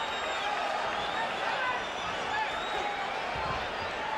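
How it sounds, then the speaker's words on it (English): Boxing arena crowd at Staples Center during a Pacquiao–Velázquez fight, a dense roar of murmuring and shouting voices throughout, steady and moderately loud. "Crowd really into it here at Staples Center."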